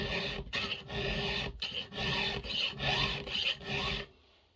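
Close, steady rasping strokes of a file sharpening a chainsaw chain for cutting firewood, about eight quick back-and-forth passes in a row before stopping abruptly.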